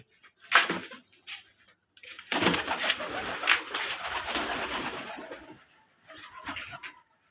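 Local domestic pigeons coo close by in soft throaty bursts, one short call, then a long rolling stretch and another call, amid faint splashing.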